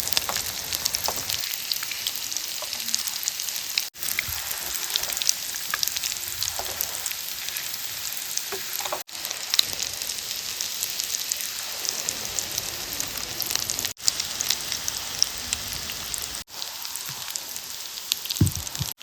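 Banana flower cutlets frying in a pan over a very low flame, a continuous close crackling sizzle with small pops, broken by a few short gaps, no voices.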